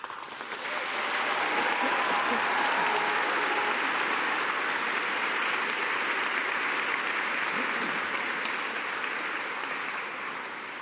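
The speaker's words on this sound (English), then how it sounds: "let's give another round of applause and a big cheer" A graduation congregation audience applauds loudly and continuously, a dense roar of many hands clapping that swells in after a second and holds steady for around ten seconds, with a few cheers mixed in.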